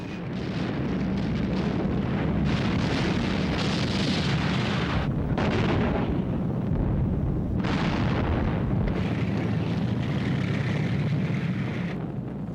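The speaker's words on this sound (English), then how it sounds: "The Soviet T-34s drove into the German lines and opened fire at point-blank range" Soviet T-34 tanks open fire at point-blank range during the largest armored battle of World War II on the Eastern Front, a loud, continuous roar of blasts and booming fire with no speech.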